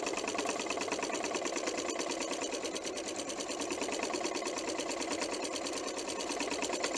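A sewing machine quilting echo lines around a paper-pieced heart in variegated pink-and-white thread, a fast steady mechanical needle chatter running continuously, close and even throughout.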